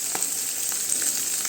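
Mustard seeds, dried red chillies, chopped green chillies and onions frying in hot oil sizzle with a dense, continuous hiss and scattered small crackles and pops, close and alone.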